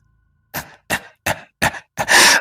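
An old man's coughing fit after hearty laughter, five harsh coughs in quick succession, close up, the last one longer and rougher than the rest, with no talking.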